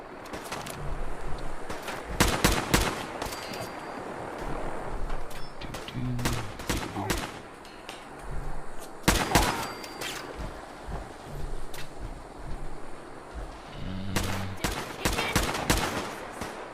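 Gunfire in the video game Fallout 4, sharp bursts of rapid shots in several volleys with gaps between them over a constant background rumble, loud and close.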